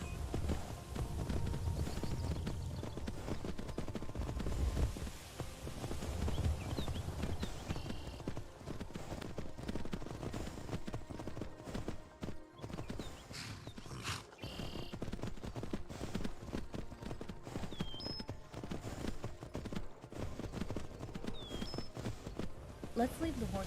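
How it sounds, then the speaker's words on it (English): Horses' hooves clip-clop steadily along a road in the Skyrim video game, a continuous close rhythm of hoofbeats under a voice talking throughout. "Let's leave the horses here."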